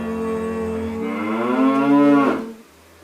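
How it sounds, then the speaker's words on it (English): A single cow moos once, close and loud, in a long, rising, drawn-out low bellow of about two and a half seconds that then cuts off into quiet. "It's a cow. Cow gives us milk."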